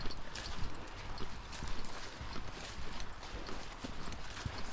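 Horses' hooves clip-clop steadily along a forest trail, an irregular walking rhythm of soft thuds at moderate distance, with no talking.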